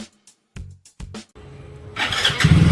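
A motorcycle engine starts after a few short cranking bursts, catching and settling into a loud steady idle up close.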